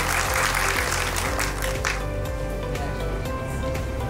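Applause from an audience at an achievers award ceremony, steady dense clapping throughout, loud and close, with no talking over it.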